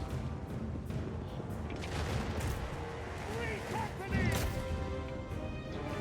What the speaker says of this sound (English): we can have them take shots at the enemy knights as they run